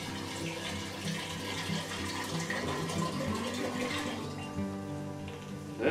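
Water pours steadily from a bottle into a batch of Irish-style whiskey during distillation, a continuous splashing gurgle close by with no talk.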